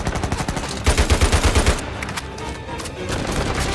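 Enemy gunfire in Uncharted 4 crackles in quick automatic bursts at close range, loud and dense for a moment before easing into a lighter background of battle noise.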